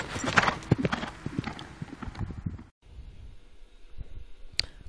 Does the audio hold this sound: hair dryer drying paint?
no